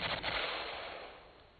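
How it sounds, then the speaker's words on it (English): M16 rifle fired on full automatic from a standing position at a range, a dense rattling burst that starts loud and trails off into a long fading echo over under two seconds. "to complete your training with the M16, you fire it automatic from 3 different positions"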